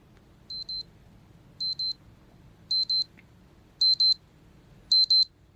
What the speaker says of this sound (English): hopefully any second we'll trip over into 1448 and the alarm will go off